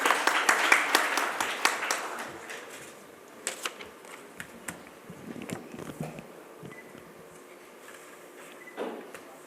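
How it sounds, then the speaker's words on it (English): Audience applause welcoming a speaker to the podium at the inauguration of a smart grid conference and exhibition, loud scattered clapping at first that thins into sparse, fading claps. "A big round of applause as we welcome to the podium Ms. Reena Suri"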